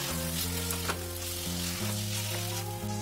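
Small chicken pieces for chicken tehari fry in a hot pan, giving a loud, continuous close-up sizzle with a steady humming tone underneath and no voices.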